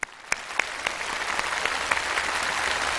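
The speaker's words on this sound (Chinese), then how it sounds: "我们也再次用掌声感谢田沁鑫导演以及所有演员的精彩表演" A studio audience at a CCTV stage show claps for director Tian Qinxin and the cast, with a few sharp opening claps swelling into a brief, steady round of applause.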